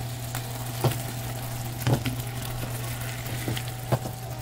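Coconut pineapple wing sauce simmering over very low heat in a pan, a steady soft sizzle with a few scattered pops and stirring clinks, no talking.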